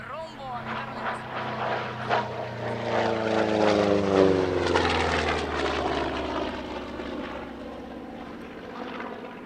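A Republic P-47D propeller fighter flies past at an Italian Air Force centenary airshow, its piston engine drone swelling and fading with a falling pitch as it passes, steady and fairly loud over open-air background.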